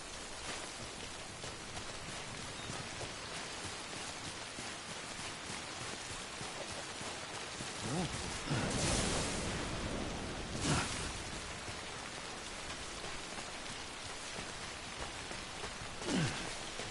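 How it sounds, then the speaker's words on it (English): Steady rain falls in the Death Stranding video game, a constant hiss of drops with a few louder gusts or rumbles swelling briefly partway through. "I'm surprised Sam hasn't made a comment about the rain."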